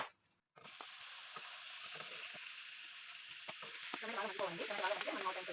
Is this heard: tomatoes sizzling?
yes